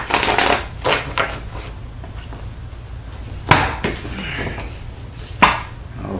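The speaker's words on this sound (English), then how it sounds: "A couple more shuffles with this deck and we'll begin." Tarot cards being shuffled during a live reading, giving a few crisp riffling bursts near the start and then sharp separate snaps and slaps of the deck, fairly close, with quiet gaps between them and no talk.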